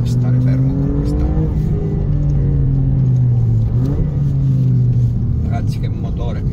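An Alfa Romeo Giulia Quadrifoglio with carbon-ceramic brakes accelerates, its engine note rising and holding as a loud, steady roar from inside the car, with an excited voice speaking over it.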